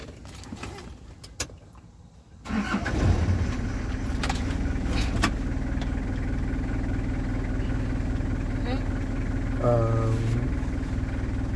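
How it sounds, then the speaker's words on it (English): A K53 code 10 truck's engine is started from rest: after quiet rustling and a jangle of keys, the engine catches and settles into a steady idle, close and loud, with brief voices nearby. "And start your vehicle."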